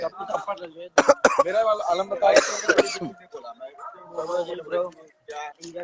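A few short, harsh coughs break up steady talking, close to the microphone.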